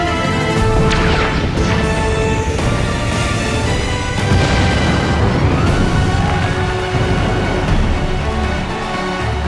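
A loud, dense crash sound effect for a comet slamming into the ground rolls on for several seconds with smashing, rumbling debris and booming layers, heavy and continuous rather than a single hit.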